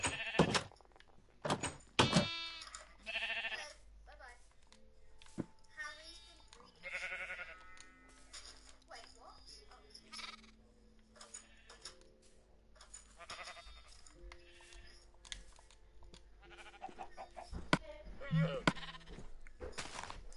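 Minecraft sheep bleat in short, scattered calls at modest volume, mixed with other game sounds while players talk.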